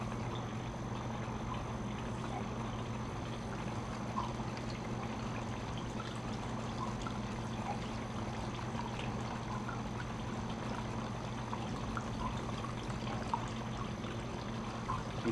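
Water runs steadily over sand in a home erosion experiment, a soft continuous trickle and wash with a low hum underneath, close by and alone for the whole stretch.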